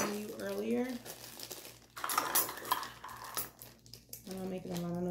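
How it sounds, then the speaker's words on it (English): Metal measuring cups and utensils clink and clatter in a kitchen while a berry smoothie is made with frozen raspberries, with a scattered burst of rattling in the middle and a voice talking at the start and end. "I'm not making a lot of noise because of those different measuring cups."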